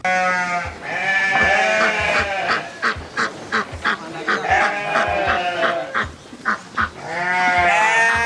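Goats and sheep bleat repeatedly on a free-range farm, overlapping calls rising and falling across the whole stretch, loud and close with a few short pauses between bursts.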